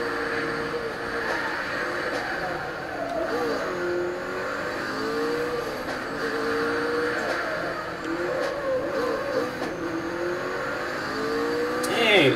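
A race car in the street-racing game Super Street The Game revs and races, its engine note rising and falling through gear changes as a steady, moderately loud whine over tyre and road noise, with no one talking.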